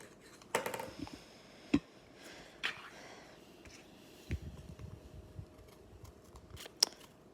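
Scissors snip through paper shapes for a craft project, a few sharp isolated cuts spaced out with quiet handling noise between them, close and moderately faint.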